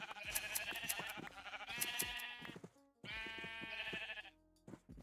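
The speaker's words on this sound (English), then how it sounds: "Sheep." Blocky video-game sheep bleat repeatedly in a Minecraft-style world, several wavering cries in quick succession with short pauses between them, close and fairly loud with no talking.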